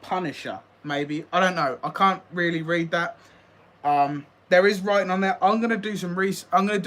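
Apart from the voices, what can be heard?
None of the usual background noises is heard.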